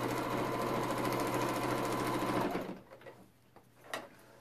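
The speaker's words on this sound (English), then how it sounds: "you can watch me sew and put the entire block together" A sewing machine runs steadily, stitching a paper-pieced quilt block with a fast, even mechanical rattle for about two and a half seconds, then stops, leaving only a few faint clicks and handling noises.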